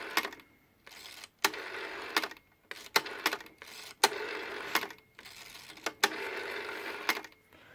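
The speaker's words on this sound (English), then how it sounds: "show you what the dial sounds like" The German rotary dial of an Autophone Aristocrat FL-50 telephone is turned repeatedly, each wind-up followed by a whirring return with rapid clicking pulses, close and fairly quiet, with no speech.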